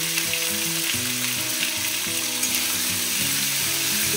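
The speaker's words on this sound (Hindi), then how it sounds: "मसाले का कच्चापन जाने तक इसे हम फ्राई कर लेंगे" Ginger paste with cumin powder and turmeric fries in a hot pan, a loud continuous close-up sizzle with crackling, under background music.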